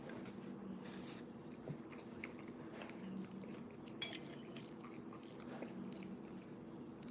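Faint clinks and scrapes of cutlery against a dish, with soft chewing, come from someone eating a still partly frozen microwaved meal. The small taps and scratches are scattered irregularly over a quiet background.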